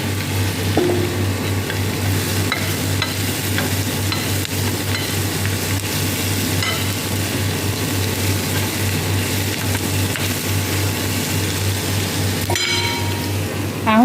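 Carrots fry with garlic in a pan for laham meshwi, a steady loud sizzle throughout with the scrape and clatter of stirring, spoon taps standing out now and then.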